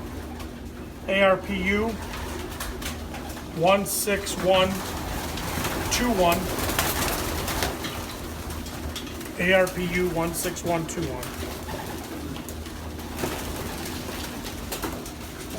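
Young pigeon cooing close by in short, soft, throaty bursts repeated at intervals, with a person talking over and between the coos.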